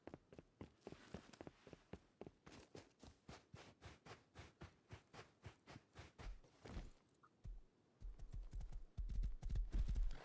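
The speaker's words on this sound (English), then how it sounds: "Horses are always fun to ride, especially if you have a road to follow." Hooves of a ridden horse clip-clop in a steady rhythm along a road in a video game, loud and close, with a brief pause and heavier thuds near the end.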